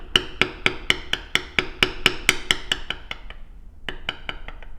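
A steady run of about fifteen crisp, sharp taps from a mallet striking a leather tooling stamp on a leather wristband, close and evenly spaced, then a short pause and a few lighter taps.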